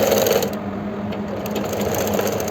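A sewing machine stitches elastic onto an umbrella palazzo in a continuous, fast mechanical whir and clatter, close and loud for the whole brief stretch.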